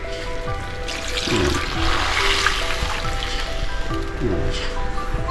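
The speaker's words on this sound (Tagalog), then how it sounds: "Yung sabaw natin, lagyan natin ito." Broth poured into a cooking pot on a heating stove, a steady liquid splash and trickle running for several seconds at close range, with background noise and some faint low knocks.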